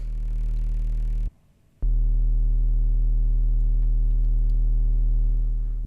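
A Moog Muse synthesizer sustains a single low triangle-wave note, steady and slightly fuzzy, with one brief gap of near silence before the tone resumes.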